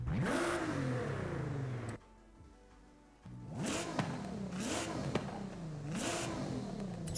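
A sharp, high-revving tuned rear-wheel-drive GT-R engine in Forza Horizon 5 climbs and drops repeatedly, with a brief quieter pause before several more rising revs.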